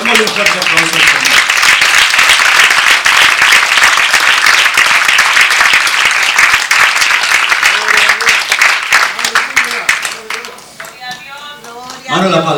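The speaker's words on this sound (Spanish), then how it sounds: "Démosle un fuerte aplauso al Señor." Congregation applauding during a Spanish-language church cell service, loud sustained clapping filling most of the stretch, then thinning near the end as a voice comes in.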